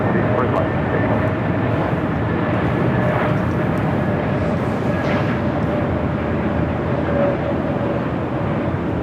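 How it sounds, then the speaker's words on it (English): A Delta Airbus A321neo lands on runway 24 right at Los Angeles airport, heard as a steady, loud jet roar that persists throughout, with radio chatter faintly underneath. "We have a Delta A321 Neo, now short funnel for 24 right."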